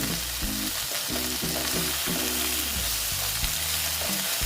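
Okra frying with turmeric and spices in a pan, a steady close sizzle with stirring scrapes, under a low humming musical tone, no talk.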